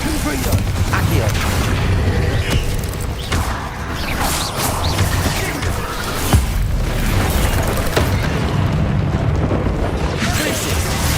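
Repeated spell explosions, Confringo and Bombarda blasts, crack and boom one after another in the Hogwarts Legacy video game, loud and dense with mechanical clatter and game effects throughout.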